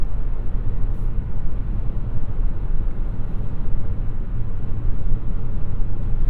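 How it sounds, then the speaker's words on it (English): Cabin noise inside a 2021 Toyota Venza cruising at about 70 mph on a windy day with the sunroof open: a loud, steady broadband roar of wind and road rumble, unbroken and without speech. "let you hear what the Venza sounds like at 70."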